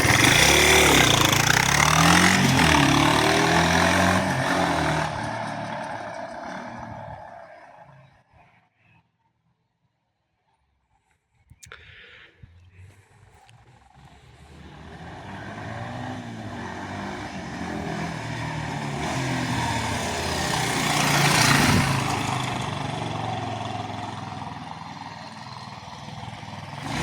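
A Yamaha SR 125 motorcycle engine runs loud and close on a test ride, with a steady rumbling drone that drops to near silence briefly midway before building again.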